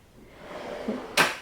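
A drawer of a pencil storage cabinet is pulled open: a faint squeak, then a short, sharp scraping burst near the end, over a quiet room.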